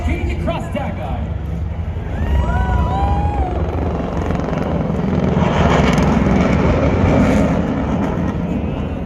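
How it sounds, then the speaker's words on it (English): AH-64D Apache attack helicopters pass over an airshow in Singapore, a loud, steady rotor drone under a public-address announcer's voice that carries across the field. "the AH-64D Apache attack helicopters will be executing across Dagai"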